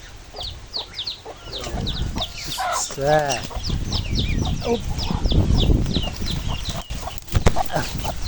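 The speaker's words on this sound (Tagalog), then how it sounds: "May bagong sisiw yan guys ayun 3 piraso lang." Chickens cluck and a rooster crows nearby on a farm where a hen has three new chicks, with high chick peeps scattered throughout and a person talking over the birds.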